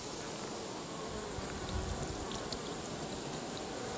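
Honeybees buzzing around a hive, a dense, steady hum of many insects with faint scattered clicks and no talking.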